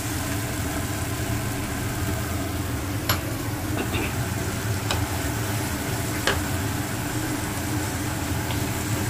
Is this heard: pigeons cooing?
no